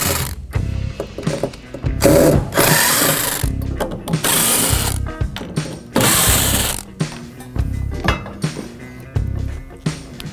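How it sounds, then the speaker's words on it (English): Screws being backed out of the shipping brackets of a stand with a T25 bit, giving close, loud bursts of mechanical ratcheting and whirring in repeated spurts separated by short pauses, with no talking. "Use the supplied T25 bit to remove the screws from the shipping brackets."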